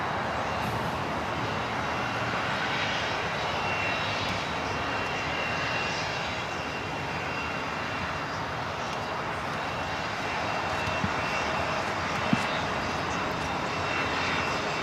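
An airliner in a special 'honoring those that serve' livery descends to land on runway 25 Right at LAX, its engines a steady, continuous roar heard from a distance with no talk.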